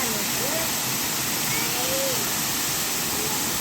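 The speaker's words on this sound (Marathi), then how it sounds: "आणि हा आहे बाबा धबधबा." The Amboli Baba waterfall, a tall medium-sized fall, pours as a steady, loud, broadband rush of water that fills the whole moment without letup.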